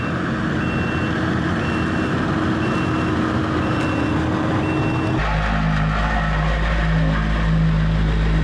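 A dump truck backs up with steady, repeating reverse beeps over a loud diesel rumble while delivering gravel for a driveway, the engine note deepening midway through.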